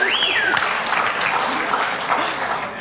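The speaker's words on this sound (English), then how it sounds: "That deserves a round of applause." Steady applause fills the room at a collaboration panel with Dr Bob Levine and Charlene Levine, a dense even clatter of clapping holding for a few seconds with a faint whistle-like tone near the start.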